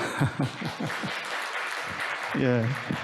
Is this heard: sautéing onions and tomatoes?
no